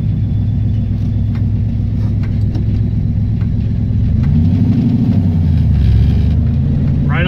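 A Ford 302 V8 fitted with a lawn mower carburetor idles with a deep, steady rumble, the engine note swelling briefly before settling back to a smooth idle.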